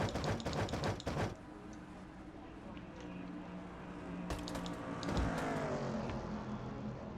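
Truck engines in a racing video game at Charlotte: a steady, fairly quiet engine drone with brief clicking bursts at the start and a slight rise in intensity toward the end.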